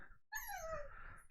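A puppy whimpers and cries in a car, giving a high, wavering whine that slides downward and carries on for about a second, close and fairly faint, with no one talking.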